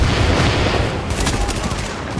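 Rapid gunfire from Tom Clancy's The Division crackles in a dense, loud volley, with overlapping shots and booms packed into a short burst amid game noise and a shouting voice.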